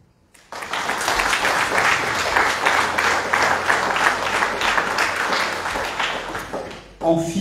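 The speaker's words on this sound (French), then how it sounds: "c'est d'applaudir les auteurs du livre" Sustained applause from an audience for a book's authors, a dense steady clapping that starts abruptly and holds for several seconds before fading out, with a brief new sound at the end.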